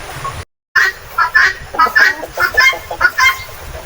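Chickens moved into a new coop cluck in short, close, repeated bursts across the whole clip, with a brief silent gap near the start.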